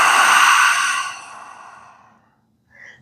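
A single long, audible exhale through the mouth during a gentle seated chair-yoga breathing exercise, fading gradually to quiet, followed by a faint brief breath sound near the end.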